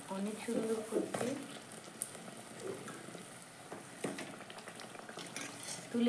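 Eggplant fritters (beguni) deep-frying in hot oil give a steady bubbling sizzle with occasional clinks of a stirring utensil, and a voice speaks over parts of it.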